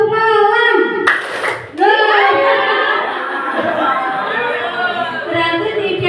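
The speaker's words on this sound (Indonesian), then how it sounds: "Tepuk malam." A school class performs the tepuk malam clapping routine, children chanting together in rhythm with a short burst of hand claps near the start, close and loud.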